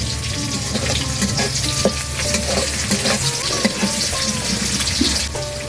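Food fries in a pan on a home stove, a steady loud sizzle with stirring scrapes and clinks throughout, close and continuous.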